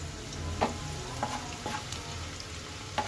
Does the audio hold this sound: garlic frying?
yes